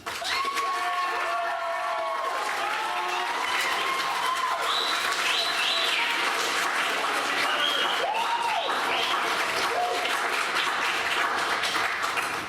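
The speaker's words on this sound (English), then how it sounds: "Students, please applaud your parents." Students applaud their parents at a high school spring chorus concert, a broad wash of clapping and cheering from a large crowd that holds steady throughout, with scattered voices and whistles rising above it.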